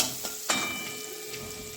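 Chopped green chili sizzles in melted butter in a pan for cheese corn chaat, a steady close hiss with a couple of brief sharper crackles.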